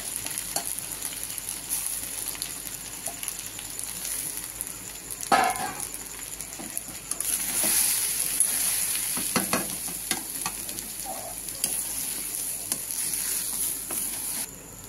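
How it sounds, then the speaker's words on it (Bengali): Rice, moong dal and dalia frying together in a pan for khichuri while being stirred, with a soft continuous sizzle broken by intermittent scraping and a few light clinks, close and fairly quiet. "চাল, ডাল আর ডালিয়া সব দিয়ে আমি কষবো"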